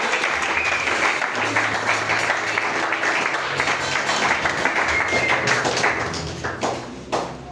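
A church congregation at an Easter celebration service claps steadily and loudly to acclaim the Lord, a dense continuous wash of applause with some taps and thumps that thins out toward the end.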